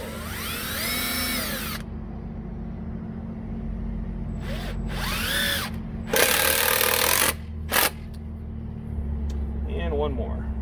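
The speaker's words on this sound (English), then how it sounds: "we'll run 2 screws in from the top here as well. And again, these are the 3 1/8 inch screws" A power drill drives 3 1/8 inch screws into wooden boat outdrive stands in bursts of whirring, separated by pauses, with someone speaking between runs up close.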